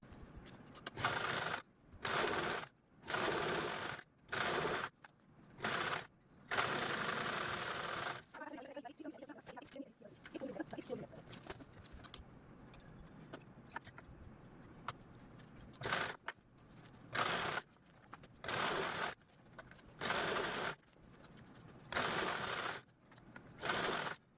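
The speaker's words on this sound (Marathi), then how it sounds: "यावरती पण आपल्याला स्टिच करून घ्यायची आहे ठीक आहे चला स्टिच करते" Sewing machine stitching a zipper onto a rectangular travel bag, running in repeated short bursts with pauses, a quieter stretch in the middle, then more bursts.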